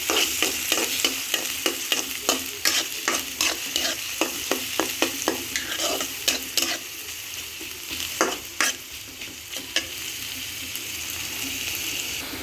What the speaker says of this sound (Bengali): পেঁয়াজগুলো হালকা বেজে নেব